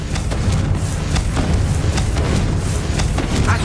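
Confringo fire spell explosions in the video game Hogwarts Legacy: loud, continuous booming and crackling blasts that fill the whole stretch without let-up.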